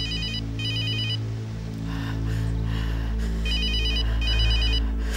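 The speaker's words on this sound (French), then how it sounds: "Allez, réponds, décroche." A telephone rings with two electronic bursts of trilling rings, a pause, then two more, over a low background hum, moderately loud and with no talking.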